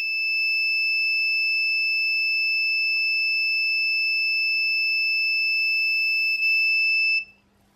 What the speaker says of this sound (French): C'est le buzzer qui sonne.